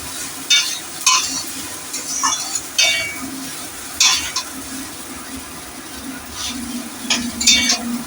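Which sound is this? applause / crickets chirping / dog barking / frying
frying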